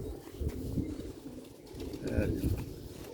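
Pigeons, black-faced fancy breed, coo softly and low, mixed with a person talking nearby over a short stretch.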